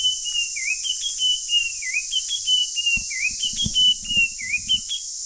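A bird whistles the same bright, wavering phrase over and over in a quiet outdoor setting on a morning mango harvest, with soft knocks and rustling joining partway through.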